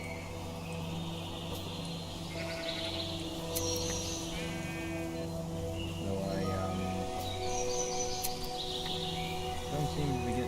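Several sheep bleating in Minecraft, repeated wavering bleats at varied pitches over a droning game background, with faint chirps mixed in.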